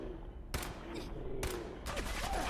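Gunfire in Fallout 4 comes as sharp, loud bursts: a shot, a second shot, then a rapid volley of reports, set against a low rumbling combat background.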